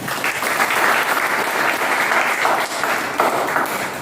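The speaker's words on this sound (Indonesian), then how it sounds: "beri tepuk tangan untuk semuanya" A classroom full of people in Indonesia claps steadily and evenly for several seconds, a dense, fairly loud applause with no talking above it.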